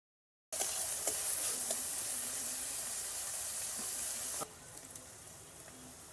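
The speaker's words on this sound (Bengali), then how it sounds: "ঘি দিয়ে দেব, ফুলকপিটি দিয়ে দেবো, ভেজে নেব ভালো করে, লাল লাল করে ভেজে নেব" Cauliflower pieces frying in hot ghee give off a steady, dense sizzle close by, with faint stirring clicks, then the hiss abruptly drops to a softer, quieter crackle near the end.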